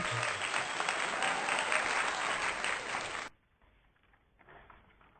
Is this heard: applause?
yes